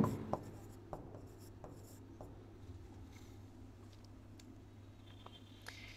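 A pen or marker scratches out equations and vector diagrams during a physics lesson. The strokes and taps are faint and irregular over a steady low room hum, with no talk.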